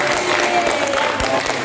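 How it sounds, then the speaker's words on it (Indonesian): Brief, close, sustained clapping from a group in a school guidance session, a dense wash of hand claps lasting under two seconds. "tepuk tangan untuk Sofa."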